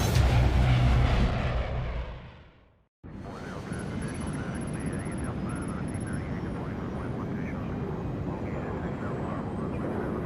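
Steady airplane cabin engine drone from the video game Splinter Cell, a loud continuous hum filling the scene after a brief cut to near silence, with faint high electronic tones above it.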